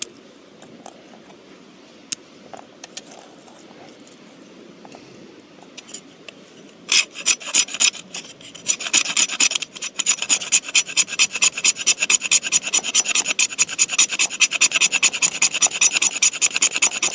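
A knife spine scrapes fatwood in rapid rhythmic rasps, starting with scattered light strokes and building into fast, steady back-and-forth strokes close by.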